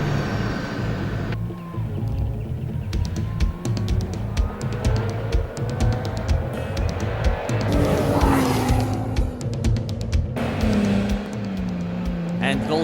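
A white Hilux and other 4x4s charging up a steep sand dune at Waterford with heavy engine revving and sliding tyres, a continuous loud roar that builds as one truck approaches at speed, with a commentator talking throughout.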